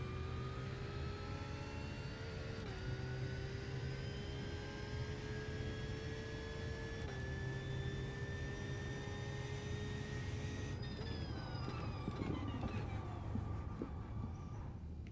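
A race car engine screams at full throttle around the wet Nürburgring in iRacing, its pitch climbing steadily through each gear then dropping at upshifts, loud and continuous with no talk.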